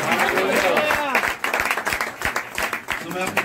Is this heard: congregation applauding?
yes